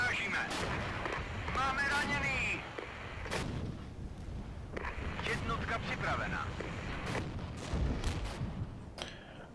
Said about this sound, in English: we'll make sure to hit them with artillery as well